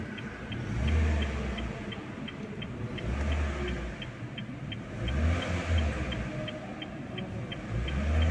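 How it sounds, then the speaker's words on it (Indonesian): A 2022 Honda Brio RS Urbanite engine runs steadily up close, a continuous low rumble that swells and eases every couple of seconds, with a faint regular ticking riding above it. "Nah, ini dia suara mesinnya."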